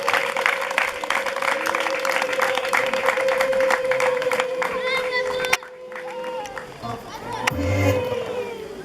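Wedding guests applauding, a steady crowd of clapping under speech for about five seconds, then a brief drop before murmuring and a rising burst of noise toward the end.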